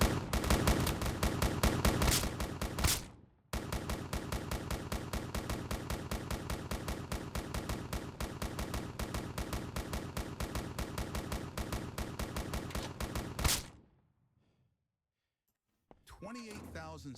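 Automated turrets in the zombie game Quarantine Zombies fire long, rapid, continuous bursts of gunfire, loud and dense, broken by a brief pause and then a sudden stop, followed by a short stretch of silence and a voice speaking.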